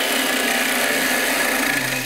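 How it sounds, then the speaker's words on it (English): A big heavy gouge cuts wood spinning on a lathe while turning a jack-o'-lantern, a steady rasping scrape over the machine's hum, loud and close with no talk. "This is a big heavy gouge, so it can take hanging over without getting vibration in it."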